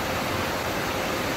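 Snowmelt waterfall near a roadside, heard as a steady, broad rushing roar of falling water with no breaks and no voices.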